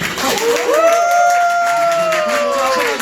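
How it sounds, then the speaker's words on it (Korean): Guests applaud at a first-birthday party, a steady wash of clapping heard alongside a sustained gliding tone that rises, holds and then falls away. "박수 좀 부탁드릴게요"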